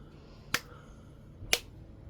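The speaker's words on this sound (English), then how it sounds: "Two claps." Two sharp hand claps about a second apart, close and crisp, each a short percussive burst with quiet room tone between them.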